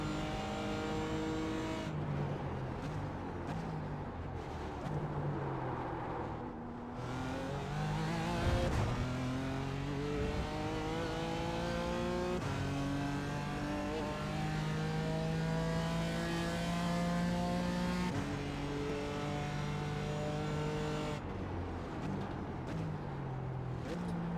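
Porsche GT3 Cup race cars start in the iRacing sim, engines revving up and down in rising, overlapping sweeps, a sustained loud racing-engine drone with repeated accelerations.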